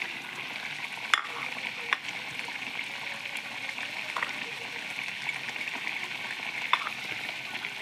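Paneer is stirred into a simmering Assamese curry, a soft continuous bubbling hiss punctuated by a few light scrapes and clinks of a spoon against the pan.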